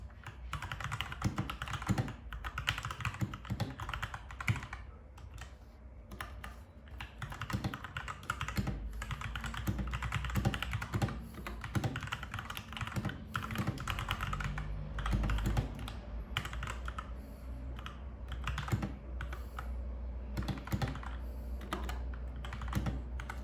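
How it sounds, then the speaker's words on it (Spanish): Brown switches on a DIERYA DK63 60% Bluetooth mechanical keyboard clack in fast, steady typing for over twenty seconds, close and crisp, with uneven bursts of keystrokes and no voices. "A continuación os dejo una prueba de sonido para que veáis cómo suenan los switches marrones."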